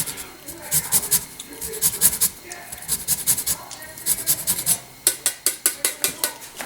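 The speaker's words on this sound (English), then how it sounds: "I think I'm going to give it a little zest," The end of a lemon is zested, making close rhythmic rasping scrapes, irregular at first and then a steady run of about eight quick strokes.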